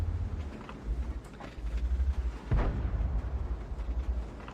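A tank cannon shot in World of Tanks, heard as a heavy booming blast in the middle, with a low rumbling engine drone before and after it and no talk.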